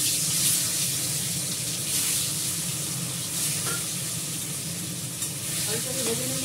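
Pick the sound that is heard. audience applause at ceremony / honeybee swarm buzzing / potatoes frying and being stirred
potatoes frying and being stirred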